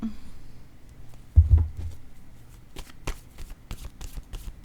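A deck of cards is shuffled and handled near the microphone, with a soft riffle, a thump and a run of quick light flicks and taps, quiet and without speech.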